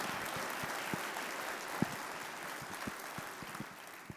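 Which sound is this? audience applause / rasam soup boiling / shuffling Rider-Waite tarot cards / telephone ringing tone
audience applause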